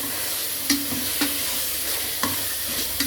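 Spices stirred through frying mushrooms for biryani with turmeric, chilli powder and garam masala; a steady oily sizzle runs underneath as a spoon scrapes the pan in several short strokes, close and fairly loud, with no talking.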